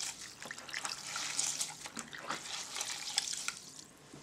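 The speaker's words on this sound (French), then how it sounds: "je vais prendre une petite éponge comme ça, que je vais tremper dans l'eau tiède" A small sponge dipped and moved in lukewarm water while rinsing off a facial scrub, giving soft close splashing and trickling sounds, fairly faint.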